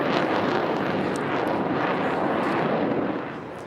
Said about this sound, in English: That sound in the Cleveland skies means the Blue Angels are back, and so is the air show